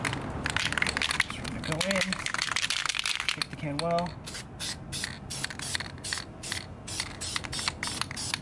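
Aerosol spray paint going onto brake calipers for a second coat, hissing bursts close by, short spurts near the end, with someone talking over it.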